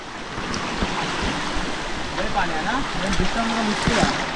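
Water rushes continuously nearby, like a flowing stream in a forest at night during late-monsoon rains, while people talk over the steady wash.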